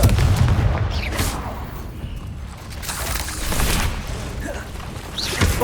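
Spell blasts and magical combat in the video game Hogwarts Legacy, with dense booming impacts and crackling bursts overlapping in a loud, continuous battle din.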